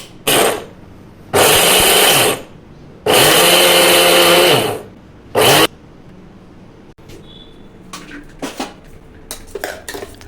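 An electric mixer grinder whirs loudly as it blends onion and green chilli into a paste. It runs in three separate bursts, and the clatter of utensils and a jar follows.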